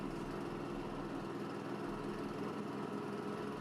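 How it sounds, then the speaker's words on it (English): A Cub Cadet XT2 QS117 side-discharge lawn tractor running with its mowing deck engaged, a steady low engine drone with a constant hum, fairly faint and unbroken, with no voices. "Turn around the key, activate your mowing deck and let's go."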